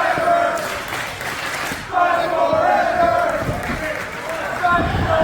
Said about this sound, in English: Crowd chanting fight forever